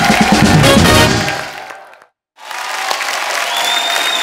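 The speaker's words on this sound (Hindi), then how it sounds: "एक बार हमारे सब प्लेयर्स के लिए जोरदार तालियां।" Loud, dense applause from a studio audience for the players on a comedy talk show, cutting abruptly to silence, then resuming as another burst of clapping and cheering.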